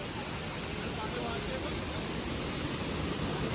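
Steady broadband rush of a full waterfall flowing near a village, loud and unbroken throughout with no distinct events, a constant close wash of falling water.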